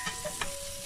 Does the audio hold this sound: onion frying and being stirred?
yes